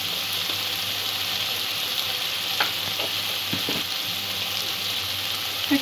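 Turmeric, coriander, cumin and chili powder fry in a pan of onion, ginger and garlic with a continuous close sizzle and a few soft scraping stirs, with no talk.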